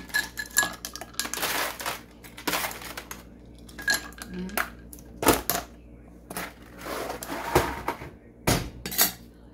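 Ice cubes dropped into a glass while making a homemade iced mocha latte, a rapid series of sharp clinks and rattles in irregular bursts, with a voice talking between them.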